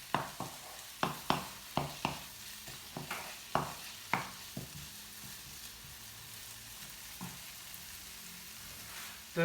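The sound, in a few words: onions frying in a pan for Alfredo chicken and prawn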